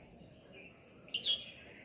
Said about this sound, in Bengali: পাখিরা সব ডাকে, তাই না?